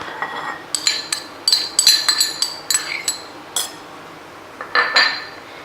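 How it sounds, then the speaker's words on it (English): A utensil mixes cucumber and other ingredients for a steamed salmon dish in a bowl, giving a run of sharp, close clinks and scrapes in irregular bursts with a short pause near the end. "What I'll do, I'll mix it all up."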